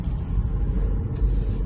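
Steady low rumble of a car engine and road noise heard from inside the moving vehicle, continuous and fairly loud with no voices over it.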